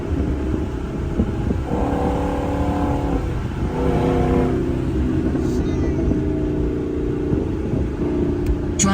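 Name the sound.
Ford Mustang GT car driving at night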